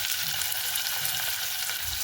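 Onion and asafoetida frying in hot oil for vegetable rice: a dense, steady crackling sizzle, close and continuous throughout.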